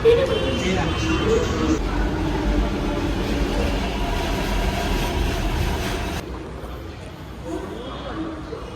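A Mumbai metro train at Andheri rumbles and clatters along, a steady mechanical drone that drops off sharply near the end as it passes or stops.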